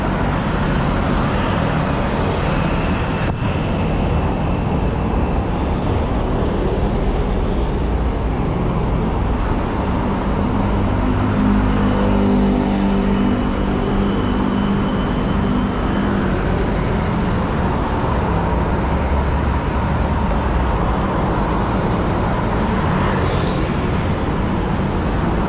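Continuous road traffic on EDSA in Metro Manila, a dense wash of cars, buses and trucks rumbling past nearby, loud and unbroken with an engine drone swelling midway.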